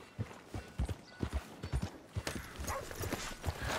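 Steady clip-clopping of horse hooves on hard ground in Red Dead Redemption 2, a brisk uneven rhythm of many close, fairly loud steps with faint background noise.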